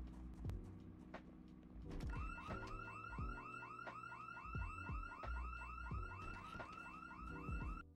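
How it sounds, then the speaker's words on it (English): A car alarm triggered at a bar in the video game Project Zomboid wails in a repeating warbling pattern, loud and close, with thumping impacts and game sounds underneath. "I decided to drive out to the bar to grab some stuff for my home and triggered an alarm immediately."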